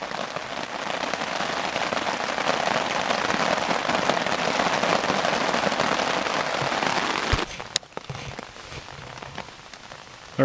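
Heavy rain drumming steadily on a nearby surface on the Superior Hiking Trail, then cutting off abruptly with a sharp knock, leaving a quieter background.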